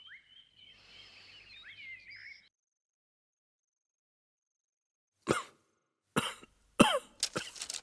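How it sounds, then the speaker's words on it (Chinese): A man gives a short burst of harsh coughs, three or four close, sharp hacks after a stretch of silence, preceded by a faint chirping sound. "怎么突然咳嗽起来了？"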